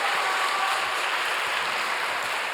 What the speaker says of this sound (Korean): 우리 감사와 축복의 박수 보내드리겠습니다